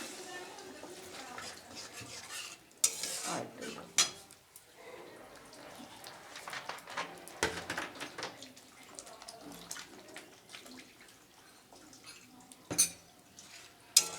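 Water poured into frying spice paste for a small-fish curry, with clattering pan and utensil knocks, stirring scrapes and splashing, plus occasional sharp metallic clinks close by.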